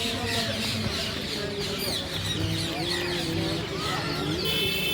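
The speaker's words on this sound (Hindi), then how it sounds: "देखो पोपट की आवाज़।" Dusk birdsong in Rishikesh with many parrots chattering and squawking, a dense, continuous chorus of overlapping calls from near and far across a noisy outdoor scene.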